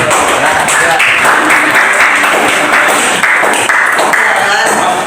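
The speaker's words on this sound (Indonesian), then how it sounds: "Tepuk tangan dulu untuk kelompok 2." Applause for a student group in a classroom presentation, steady dense clapping throughout with voices mixed in.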